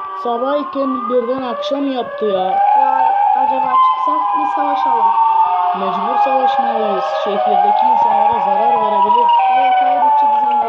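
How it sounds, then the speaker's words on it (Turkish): A wailing siren from a Minecraft game rises and falls repeatedly in the background while two voices talk over it throughout. "şu siren sesine bakar mısınız arkadaşlar?"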